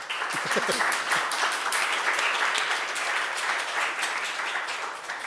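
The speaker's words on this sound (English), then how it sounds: "You may clap." Audience applause at a global zero-emission vehicle transition roadmap announcement, steady dense clapping filling the room for several seconds after a brief voice at the start.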